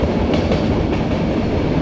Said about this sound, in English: our meter gauge train makes its way through this rugged landscape